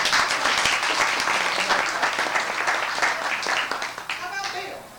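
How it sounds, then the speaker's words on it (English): A PHS Class of 1952 gathering claps for Charlotte in a prize vote for the funniest story: dense, close, vigorous applause that holds steady, then thins out and fades near the end. "Clap for Charlotte."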